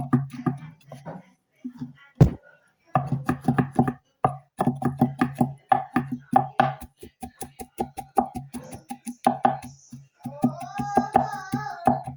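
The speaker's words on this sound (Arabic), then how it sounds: "كلشي غنردوه الصغيور، غنهرسوه مزيان" Quick rhythmic knife strikes on a board as ingredients for a msemen filling are chopped finely, a long run of crisp close taps with brief pauses and a voice briefly audible.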